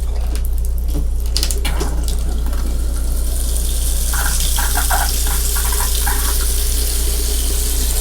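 Water rushes through the refreshed water lines of an RV motorhome, a loud, steady hiss over a low hum with no voices and no letup.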